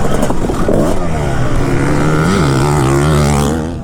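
A two-stroke Kawasaki KX250 dirt bike rides enduro terrain, its engine revving hard and close with a rising, wavering buzzy pitch that dips and climbs again. No talking is heard.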